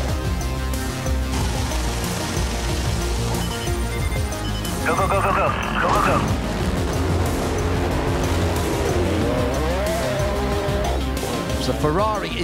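Ferrari and Porsche GT race cars accelerate out of pit lane at the Sebring Twelve Hours endurance race, engines rising and sweeping in pitch over steady crowd and track noise, with radio chatter and a commentator talking over it.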